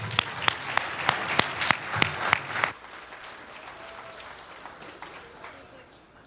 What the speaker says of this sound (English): I want to give Chairman Mays and all the volunteers and all the folks here tonight a good round of applause.